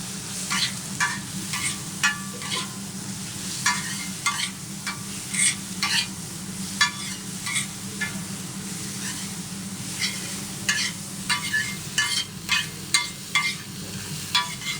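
Onion and tomato base being stirred and fried on a tawa griddle, with a steady close sizzle and repeated scraping strokes of a spatula running throughout, with no talking.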